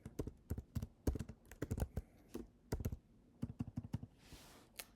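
Typing on a computer keyboard, a steady series of close, crisp key clicks in irregular bursts with short pauses, heard on their own with no talk.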